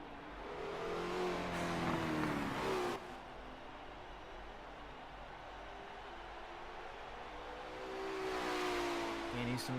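Race car engines lapping Suzuka in a sim racing game, a loud engine note climbing through revs, then a sudden cut around three seconds and a quieter steady drone that swells again toward the end.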